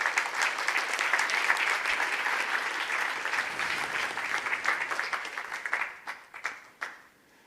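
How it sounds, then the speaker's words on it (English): A conference audience in Tokyo applauding loudly and continuously, the clapping thinning out into scattered claps and fading away at the end. "give a round of applause to all of these sponsors"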